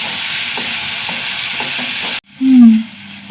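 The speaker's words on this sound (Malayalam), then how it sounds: "തക്കാളിയൊക്കെ ഒന്ന് വഴണ്ട് വന്നു കൂട്ടാ" Two tomatoes sauté in a pan with a steady frying hiss and faint stirring taps, then a brief pause and a louder burst of sizzle as the pan is worked again.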